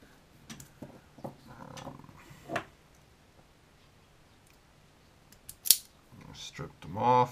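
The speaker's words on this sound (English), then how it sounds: "I'm going to snip those two grounds." Wire cutters snip two ground wires on an inverter wiring job, giving a few crisp clicks spread across a quiet workbench, with faint handling noises between them.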